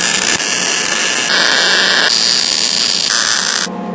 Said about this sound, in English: Now check to make sure everything's good before welding it up solid.